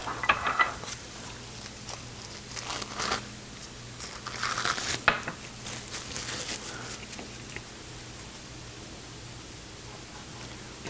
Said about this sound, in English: I can unwrap a few of these things.